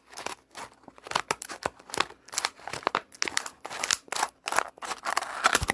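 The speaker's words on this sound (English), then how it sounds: "you take a pair of shears like these. Like very expensive shears, and you cut along the line like this" Expensive shears snip and slice along a line on cups, giving a rapid run of sharp, crinkly cuts with short pauses between strokes, close and fairly quiet.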